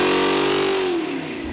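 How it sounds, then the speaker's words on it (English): A 1968 Mustang Fastback track car engine, 347 cubic inches, roars at high revs on a dyno power pull, a loud steady howl that climbs then eases off near the end, with no voices. "guess who got to man the dyno controls during the engine's first power pull?"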